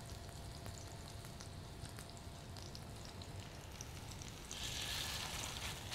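Italian-style turkey burgers sizzling in a frying pan, a dense crackling spatter that holds steady and then gets louder and brighter near the end, with no talk.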